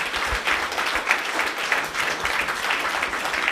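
An audience applauds a woman business leader after her talk, a dense, steady wash of many hands clapping that holds at an even level throughout without pause.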